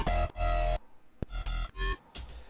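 A heavy dubstep bass synth shaped by a comb filter and phaser, loud choppy bursts of wide, notched midrange growl in a pumping rhythm, stopping abruptly between hits.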